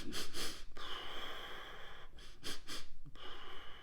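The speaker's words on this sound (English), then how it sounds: "So do some pranayama." Pranayama breathing exercise: forceful nasal inhales and exhales come in rapid rhythmic bursts, a pause, then more quick breaths, close and fairly clear with no talking.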